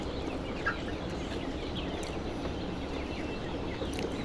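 Broiler chickens about 40 days old, weighing roughly 1 to 1.5 kg, give off soft, steady clucking inside a farm shed. The noisy background hum stays constant throughout, and no one speaks.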